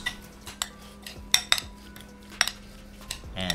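Coleslaw being tossed with sugar, salt and black pepper, heard as a spoon or utensil knocking and scraping against a bowl in a few clear clinks over quiet mixing.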